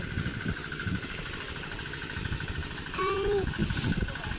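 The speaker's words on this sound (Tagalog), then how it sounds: "may motor pala ng tubig dito" A motorized water pump drones steadily at a distance, a faint low engine hum with a thin tonal whine riding above it and a brief rise in pitch partway through.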